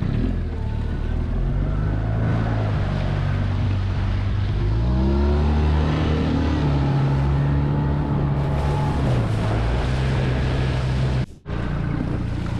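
A dinghy outboard motor runs among rocks in a bay, a loud continuous engine drone whose pitch rises and falls with throttle, mixed with water splash and wind rush, briefly cutting out near the end.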